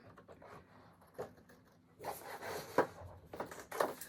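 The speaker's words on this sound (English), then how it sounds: "Scissors will work." Scissors snipping through paper copies of black and white drawings, a few quiet crisp cuts and rustles close by, with the busiest snips in the second half.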